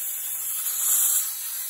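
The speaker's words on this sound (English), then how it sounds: "there's a bleed screw on the bottom. This is to let moisture out as the air compressor is used." Compressed air hissing out of the tank bleed screw on a Porter Cable air compressor, a steady, close, high-pitched rush that swells slightly midway, with no voices.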